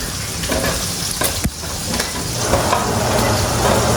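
Spaghetti and ham cooking in a pan, a loud, steady sizzle with stirring scrapes and a few sharp clatters, growing slightly denser toward the end.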